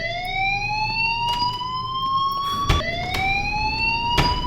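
A fire alarm blares in the video game Life is Strange, a loud continuous rising electronic tone broken by sharp clattering hits.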